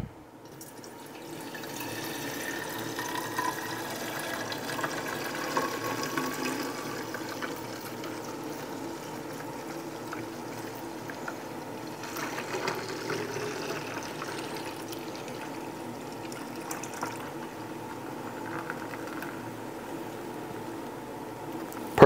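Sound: liquid being poured into a glass pitcher

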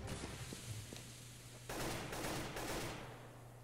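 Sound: pistol shots in video game Counter-Strike: Global Offensive

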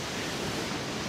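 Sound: geyser erupting in a video game

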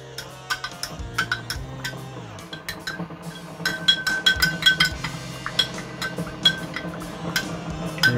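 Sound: stirring borax into water in a glass container

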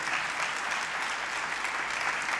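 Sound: partial audience applause

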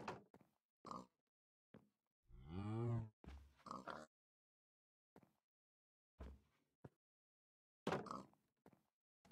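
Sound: cow mooing in a video game

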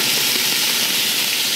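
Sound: diced bacon, onion and garlic sizzling in oil

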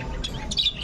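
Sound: Hagoromo rainbow lovebirds chirping in an aviary

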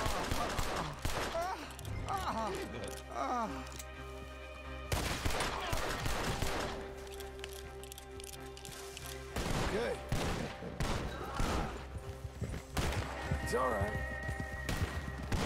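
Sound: gunfire and horse in video game Red Dead Redemption 2

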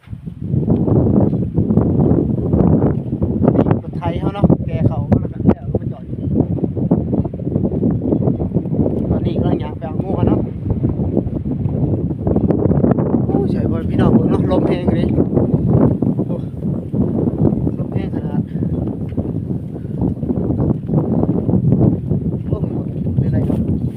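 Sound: cold dry wind over rice fields

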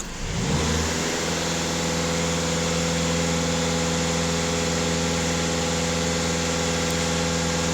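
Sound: Skoda VRS engine revving after DPF regeneration

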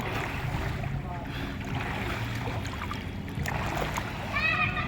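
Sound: person swimming and splashing in water

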